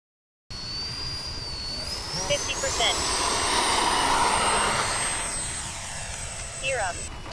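An 80mm Tomcat model jet flies at a model airfield, a loud steady turbine whine that rises in pitch and holds, with broad rushing roar throughout and brief faint chirps near the end.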